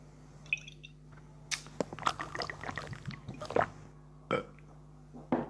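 A man burps in several short, wet gurgling bursts in irregular clusters over a low steady hum, close and fairly quiet.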